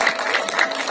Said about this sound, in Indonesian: boleh kita berikan tepuk tangan juga untuk Bapak David Surwato selaku produser